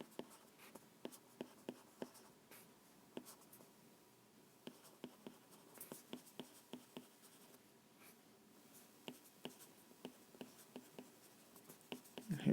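Pen strokes scratch and tap across paper while a chemical structure is drawn, a quiet, close series of short, irregular marks with brief pauses between them.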